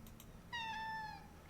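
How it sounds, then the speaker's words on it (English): A single drawn-out cat meow from the video game Nightfall Whiskers, with a clear, harmonic tone, fairly close and loud, rising then falling, with a faint low hum underneath and no talking. "Oh, God, that meow kills me."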